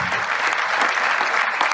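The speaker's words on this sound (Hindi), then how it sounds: "जोरदार तालियां बबलू चौधरी जी के लिए।" Audience at an RCM business gathering in Noida claps loudly and steadily for Bablu Chaudhary, a dense continuous ovation filling the room without speech.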